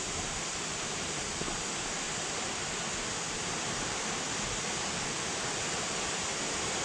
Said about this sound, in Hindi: तो अब हम छोटे वाले वाटरफॉल के पास पहुंच गए।